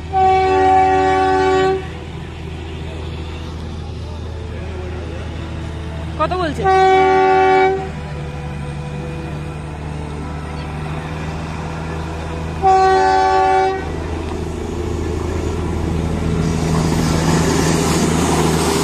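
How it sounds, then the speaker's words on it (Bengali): A toy train horn sounds in three long, loud blasts spaced apart, over a steady rumbling engine, with brief talk in between, in fog near a loop in Darjeeling. "কুয়াশার মধ্যে দিয়ে একটা টয় ট্রেন আসছে"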